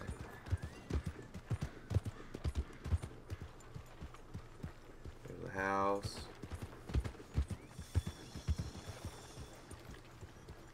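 Horse hooves clip-clopping in the Marlboro Man Simulator video game, a steady run of evenly spaced hoof knocks close by, with a brief whinny partway through and someone talking over them.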